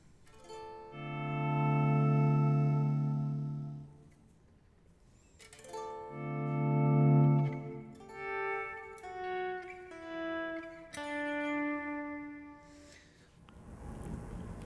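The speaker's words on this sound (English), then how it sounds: "I'm going to go back to the kind of echo chamber here and see how that sounds." Electric guitar from a Solo Music Gear Tele-style kit build, played through an echo chamber effect: sustained chords ring out with lingering echoes, followed by a run of shorter picked notes, loud and alone with no talking.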